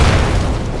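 An explosion in the video game Dying Light, a loud, deep boom filling the whole moment, a heavy rumbling blast with no voices over it.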